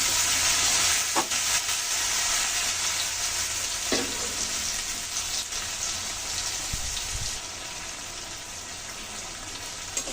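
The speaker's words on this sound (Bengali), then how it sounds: "পেঁয়াজ দিয়ে ভালো করে ভেজে নেবো" Potatoes and onions frying in a pan give a continuous close sizzle and hiss, with occasional stirring knocks and scrapes throughout.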